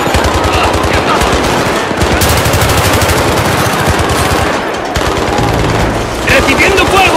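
Sustained machine-gun fire in a war video game battle, dense rapid bursts that run nearly the whole time, loud and continuous with shouted voices mixed among the shots.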